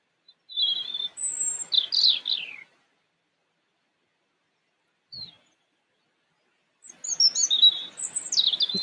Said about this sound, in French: vous entendez le son du chant des oiseaux qui m'entourent